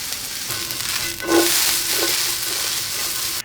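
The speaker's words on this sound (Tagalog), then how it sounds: "Lagyan na natin kagad itong okra. Ang gagawin natin dito ay lulutuin natin mabuti yung bawat side ng okra." Okra hits a hot, smoking pan and sizzles loudly, with a steady frying hiss and a brief burst as pieces settle into the oil. No one speaks.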